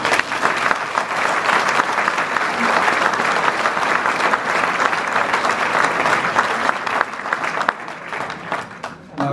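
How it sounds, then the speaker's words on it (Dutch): Hearty applause from a concert audience after an evening performance by a music ensemble, a dense steady clapping that carries on for about nine seconds before tapering off at the end. "Dus voor jullie allemaal vraag ik een hartelijk applaus."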